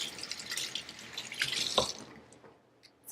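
Water running from a kitchen tap while cooking green beans and salmon, a steady close splashing flow that tapers off into faint drips and near quiet, with no talking.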